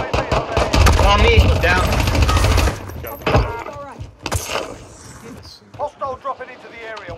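Rapid automatic gunfire bursts from a Call of Duty battle royale match, loud and dense for the first few seconds, then fading into scattered shots while players talk over the action.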